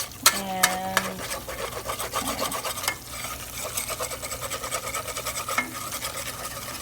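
Spoon scraping and stirring the bottom of a pan of coconut milk curry, a continuous rhythmic rasping close by, with brief soft squeaks mixed in.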